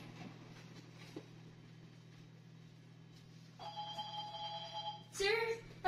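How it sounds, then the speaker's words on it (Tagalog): A telephone rings indoors, a steady electronic tone joining partway through, followed by a louder warbling ring burst near the end, over a low constant hum. "May tumatawag kasi ang telepono."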